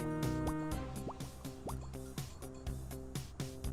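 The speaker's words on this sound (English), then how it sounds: "now our sword's too hot, so we need to cool it off in the waterfall" A hot sword cooled in a waterfall inside a video game makes a run of drippy, liquid plops and splashes over steady game music, repeating quickly for a few seconds with no talk.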